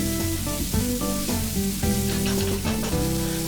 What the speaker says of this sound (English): Then add 1 tomato chopped and fry it until the tomatoes are soft.